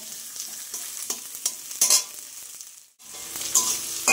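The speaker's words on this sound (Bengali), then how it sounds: "এদিকে তো এই মশলাগুলো ভাজা হচ্ছে" Spices frying for egg curry sizzle in a pan close by, with repeated scraping stirs at a steady rhythm, a brief drop to near silence, then the sizzle returns louder.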